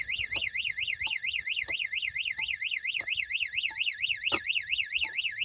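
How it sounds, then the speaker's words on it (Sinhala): A vehicle horn sounds nonstop because of an electrical short at a night-time hut near elephant country in Kantale. It gives a loud, rapidly warbling tone without a break, with a few soft clicks underneath. "හෝන් එක වදිනවා."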